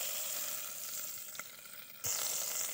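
Amul butter melting in a pan outdoors in a jungle, giving a soft continuous sizzle that jumps to a louder, brighter hiss near the end.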